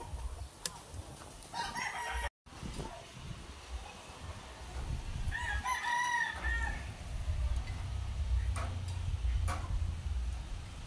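A rooster crows a few times in the middle distance, with a clicking tick in the background and a steady low rumble building toward the end.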